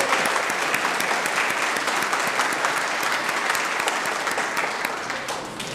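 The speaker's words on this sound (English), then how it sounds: "let's give her a warm round of applause" A workplace audience at an employee of the year ceremony gives a warm round of applause, dense and loud clapping sustained throughout, easing slightly toward the end.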